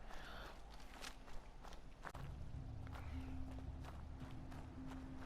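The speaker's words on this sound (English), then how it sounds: "I hear footsteps." Footsteps in the video game Fallout 4, on the way to Far Harbor, tread in a steady, continuous rhythm over a constant game ambience, fairly close and even in loudness.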